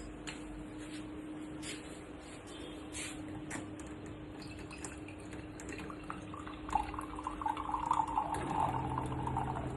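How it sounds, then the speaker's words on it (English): Water trickles and drips, then a stream pours into a small metal pot close by, the pitch rising as it fills. "We'll fill the moka pot with some water first."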